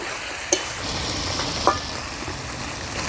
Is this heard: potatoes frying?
yes